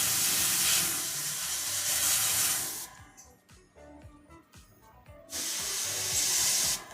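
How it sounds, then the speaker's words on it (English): Two long bursts of spray paint hiss from an aerosol can, loud and close, separated by a quieter pause full of small handling clicks and taps. "if you use the spray paint"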